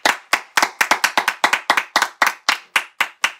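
Congregation in a church clapping in a steady, even rhythm, about fifteen sharp hand claps spread over a few seconds, close and loud with no talking.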